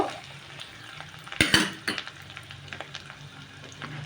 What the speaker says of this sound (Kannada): ಈಗ ಇದೆರಡು ಚೆನ್ನಾಗಿ ಮಿಕ್ಸ್ ಮಾಡಿ ಚೆನ್ನಾಗಿ ಹುರ್ಕೊಳ್ಬೇಕು